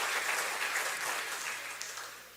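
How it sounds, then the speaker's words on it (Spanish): A church congregation clapping together, a dense, steady wash of many hands heard from a moderate distance that fades slightly toward the end. "denle un fuerte aplauso al Rey de Reyes y Señor de Señores"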